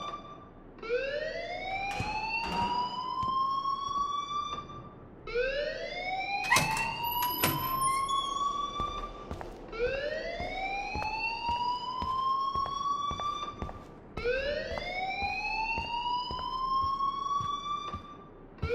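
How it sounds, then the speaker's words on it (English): Electronic alarm in the video game Life Is Strange wails in four repeated rising sweeps, each lasting several seconds with bright harmonics, moderately loud with no talk over it. "please turn off that alarm since that's your job"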